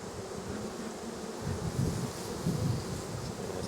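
Honey bees swarm around a hive, their dense, continuous buzz holding close and steady throughout, with wind rustling underneath and slight swells in loudness.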